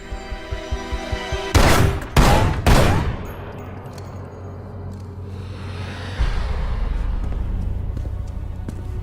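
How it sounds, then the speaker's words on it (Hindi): Three loud gunshots in an action movie crack in quick succession, then a rumbling, booming echo lingers under a steady low background drone. "लो, मैंने भी कुछ गोलियां चला दी।"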